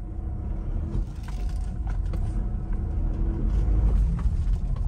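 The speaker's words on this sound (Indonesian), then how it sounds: "nanti ada suara kalau kita gas ya" A 2014 Mitsubishi Pajero Dakar VGT engine rumbles deep and steady close by, then swells somewhat louder as the throttle is pressed, with no talking.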